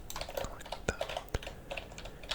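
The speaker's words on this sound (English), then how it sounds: "everyone likes keyboard sounds" Computer keyboard typing during Apex Legends gameplay: a close, quiet stream of light key clicks with a few sharper, louder keystrokes standing out, continuous throughout with no voice.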